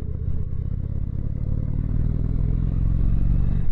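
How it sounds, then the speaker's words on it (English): Steady, throaty low-pitched engine drone from a 2021 Indian Springfield motorcycle on its stock exhaust, held close and continuous while riding, building slightly in loudness toward the end. "This has a stock exhaust on it, and it's not a loud exhaust, but it's quite throaty."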